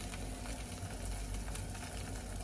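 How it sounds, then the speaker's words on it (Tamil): Two beaten eggs hit a pan of hot oil and fry, making a steady, fairly quiet crackling sizzle that holds evenly throughout with no voices over it. "கொஞ்சம் எண்ணெய் விட்டு ரெண்டு முட்டை அடித்து ஊற்றுவோம்"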